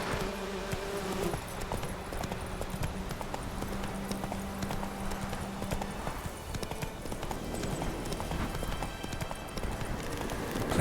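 In The Witcher 3 video game, Geralt's horse Roach trots steadily, hooves clip-clopping in a continuous even rhythm over ambient outdoor game sound, with no talking.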